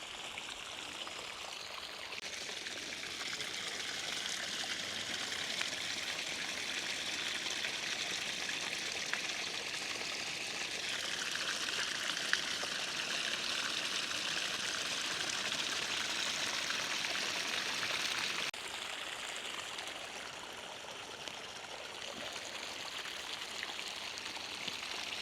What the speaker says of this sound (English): it helps eat all the algae and pumps cleaner water back into the pond